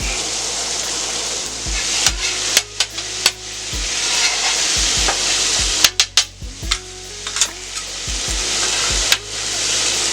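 Shrimp fry on a Steelmadeusa griddle with a constant close sizzle, punctuated by sharp metallic scrapes and taps of a spatula flipping and moving them across the flat-top.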